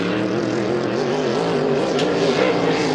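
A racing hydroplane at the Valleyfield Grand Prix time trials roars at full throttle, a loud, steady, high-revving engine drone that swells slightly toward the end.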